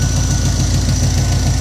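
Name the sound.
1968 Pontiac engine with Holley Sniper idling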